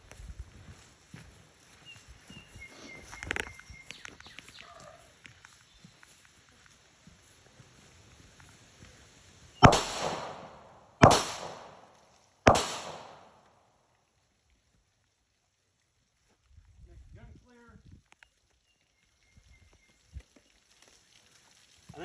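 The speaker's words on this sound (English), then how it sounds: "so I'm gonna get down on one knee and shoot" Three sharp 9mm pistol shots ring out one after another at a truck door outdoors, each a loud crack with a short echo tail, set against long stretches of faint background with quiet handling noises.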